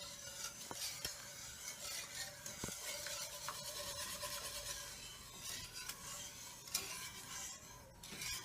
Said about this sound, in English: you have to keep stirring it.